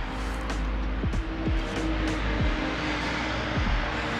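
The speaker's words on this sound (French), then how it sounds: "une Lexus RCF, version 2015, vaisseau amiral de chez Lexus en 2015, V8 5 litres," A 2015 Lexus RC F with a 5-litre V8 and a full custom stainless exhaust from manifold to muffler rumbles loudly, its engine note sweeping up and down in quick repeated revs with no talking.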